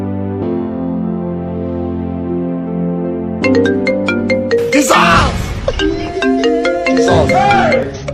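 A mobile phone ringtone plays in a drama scene: a steady electronic tone first, then repeated bright beeping notes, with people talking over the second half.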